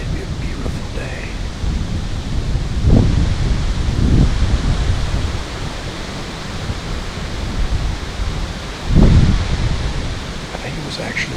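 Wind gusting through trees during autumn bow hunting season in Pennsylvania, a loud broadband rush that swells in several strong gusts, close and continuous, with no voices.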